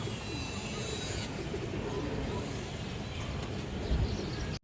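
Bagha pigeons coo softly amid a dense, steady background hum, with faint chirps and a brief louder thump near the end.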